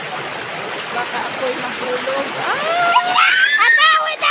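Strong river current after rain rushes as a constant loud roar and splash, with people talking and shouting excitedly over it close by.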